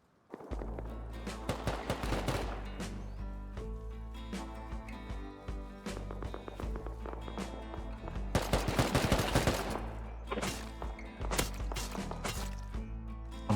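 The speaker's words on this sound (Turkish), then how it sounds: "Adam AK ile beni vuruyor ya." Repeated AK rifle fire in the video game Rust crackles in rapid bursts and single shots, loud and close, with a dense volley near the middle and scattered impact sounds.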